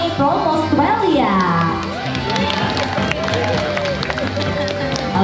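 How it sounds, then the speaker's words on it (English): At an animal education show at Bali Zoo in Indonesia, the audience cheers and claps for a participant, a busy mix of crowd noise and raised voices with a host speaking over it. "please big applause for our participant all the way from Australia"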